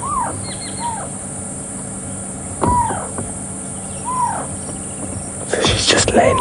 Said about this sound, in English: scops owl calling